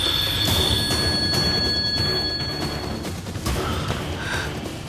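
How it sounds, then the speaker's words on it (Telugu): A telephone rings with a steady electronic tone, fairly loud, over a dense rumbling background noise. "మాయా ఫోన్ చేస్తుంది పార్ట్నర్."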